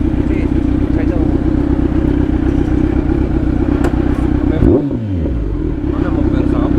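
A motorcycle being parked, its engine idling loud and close with a brief clatter before the pitch sweeps down as it winds down, while people talk over it.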